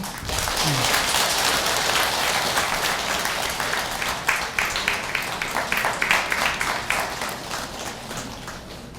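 Audience at a Buddhist temple's Avatamsaka dharma assembly applauding a visiting council member, a dense crowd of clapping that swells at once and holds steady, with a brief voice near the start and individual claps growing distinct as it tapers.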